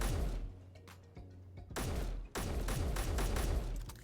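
Rifle magazines blow up under gunfire in the Space Engineers video game, a loud rapid crackling fusillade of bursts with deep booming thumps, two main blasts rolling into sustained popping.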